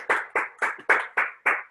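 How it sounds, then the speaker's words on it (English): Six evenly spaced claps from a single pair of hands applauding a webinar host, crisp and close with short gaps and nothing else in the background. "Okay, they clapping for you."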